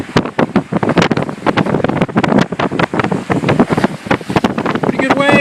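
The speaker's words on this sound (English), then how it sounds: "Pretty good waves coming in here." Strong wind buffets the microphone at the Chatham Fish Pier on Cape Cod ahead of the 2013 blizzard, with ocean waves surging beneath in loud, gusty bursts while someone talks.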